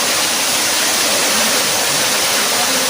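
Roaring waterfall in a wild rainy-season setting, water pouring down from several directions at once; a dense, steady, loud rush of falling water fills the whole stretch with no voices.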